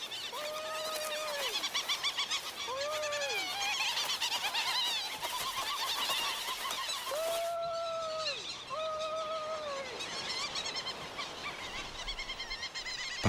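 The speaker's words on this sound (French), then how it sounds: "Les pétrels de Solander sont très agressifs et défendent leur territoire au centimètre près." Solander's petrels call from a dense breeding colony on a small plateau, repeated rising and falling wailing cries, several birds overlapping, fairly close against a constant rushing background of many more birds.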